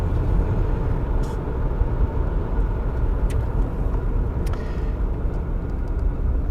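A 1983 Plymouth Grand Fury with a 318 V8 and non-lean-burn setup pulling in first gear, a steady low engine and road rumble from inside the car, continuous and fairly loud, with occasional faint clicks.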